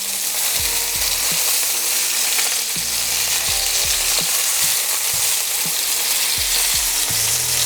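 Salmon fillet fries in a pan after being turned, giving a loud, dense, steady sizzle and crackle up close, with faint low knocks scattered throughout and no voices.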